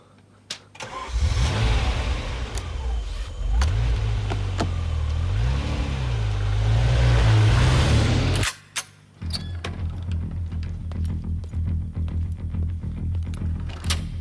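A car engine cranks and catches, then idles and revs unevenly for several seconds before cutting out briefly and rumbling on at a lower, steadier level.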